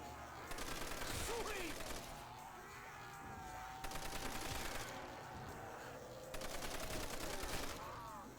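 Sustained bursts of rapid automatic fire from a Browning machine gun in Call of Duty: World at War zombies mode, Verrückt map, come in three long volleys with game sounds between them and a voice faintly underneath.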